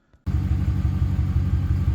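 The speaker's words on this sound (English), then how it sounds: "Now the truck's running and it's in park" A 2018 RAM 1500 pickup's engine starts and then idles in park, settling into a steady, loud, close low rumble with an even pulsing throb.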